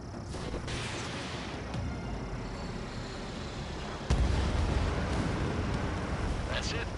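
In a PS4 flight combat video game, a missile strikes its target with a sudden heavy thump that lifts a dense, rumbling roar of jet noise and combat, while voices speak over it.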